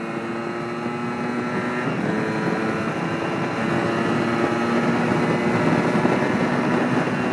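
A Yamaha DT 125 motorcycle engine drones steadily and close by, its throttle climbing slightly about halfway through and then holding at a higher, louder pitch, with no voices over it.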